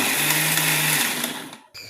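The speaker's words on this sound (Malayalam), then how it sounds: "3/4 പരുവം രീതിയിൽ അരച്ചെടുക്കണം. നിർത്തി വേണം അടിച്ചെടുക്കാൻ." A kitchen mixer grinder whirs loudly for about a second and a half while coarsely grinding ingredients, stops abruptly, then briefly starts again in a short pulse.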